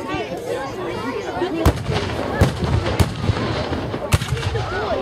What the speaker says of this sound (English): German artillery still reacting.